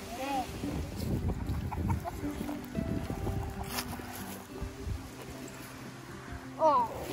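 Chickens cluck intermittently in the background of a barn amid rustling and low handling noises, with a clearer squawk near the end.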